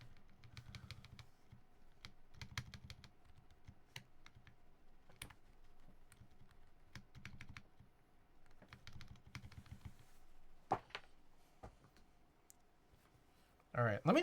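Rapid bursts of typing on a Frog Mini HE mechanical keyboard, clustered clicky keystrokes close up with brief pauses between runs, while a voice talks over them and a sharper rattle comes at the end.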